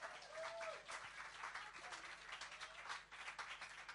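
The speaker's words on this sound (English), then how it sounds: "Can we have a round of applause for Rob?" Live-music venue audience applauding the sound engineer, a quiet, continuous wash of clapping from the crowd that dips briefly near the end.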